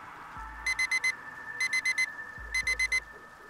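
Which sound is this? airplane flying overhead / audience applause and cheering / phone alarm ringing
phone alarm ringing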